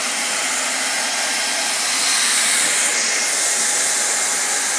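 Weldy 1600W hot air plastic welding heat gun running steadily during welding, a loud continuous broadband hiss and blowing rush lasting throughout, close by and with no talking.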